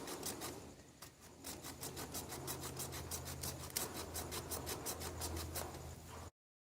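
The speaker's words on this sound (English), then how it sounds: "So we'll just go ahead and just use a hacksaw to get through it here" A hacksaw cuts through the cracked pipe of an outdoor faucet spigot during a DIY repair. Even back-and-forth rasping strokes repeat in a steady rhythm for about six seconds, close and fairly quiet, then stop abruptly.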